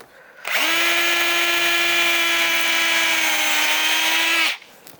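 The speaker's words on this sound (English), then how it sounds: "Now we'll see how the Star-M 3mm drill bit goes." A Star-M 3mm Japanese drill bit boring steadily under power, one continuous loud whine holding an even pitch for about four seconds before cutting off abruptly.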